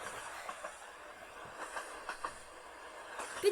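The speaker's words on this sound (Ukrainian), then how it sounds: "неймовірно потяг їде." Minecraft train rolling along on a journey toward a seaside city, with steady rumbling and repeated clickety-clack wheel beats, some louder clunks near the end, heard alone without talk.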